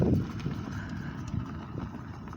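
Hooves clip-clop at an irregular walking pace on open ground, moderately close, with soft wind noise behind.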